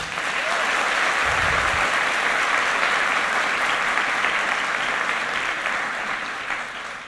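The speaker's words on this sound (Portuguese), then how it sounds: "Salva de palmas para eles, gente." An audience at a talk on burnout gives a steady round of applause, dense and sustained for several seconds before thinning slightly at the close.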